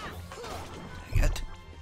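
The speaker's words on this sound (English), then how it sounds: "a water bottle falls to the floor" A water bottle drops onto the floor indoors, landing as a single dull thud with a short clatter near the middle, set against faint room noise.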